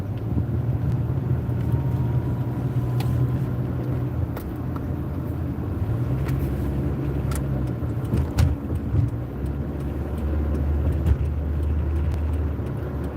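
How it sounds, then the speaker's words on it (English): A car drives through multi-lane road traffic, with a steady low engine and tyre rumble filling the cabin. Faint passing noises and small bumps come through, and no one speaks. "Got to get over like 4 lanes of traffic here."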